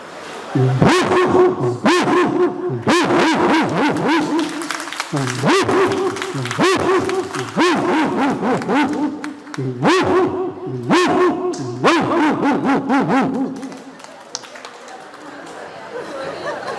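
A human voice imitates a dog's barking in rapid, rhythmic bursts of yaps and woofs, loud and close, with chatter around it.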